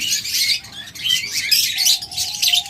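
Pet lovebirds, budgerigars and cockatiels in a shop chirp rapidly and loudly in overlapping bursts, with a few clearer whistle-like notes near the end.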